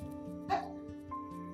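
Puppies yipping, one sharp close bark followed by faint whimpering tones against a quiet background.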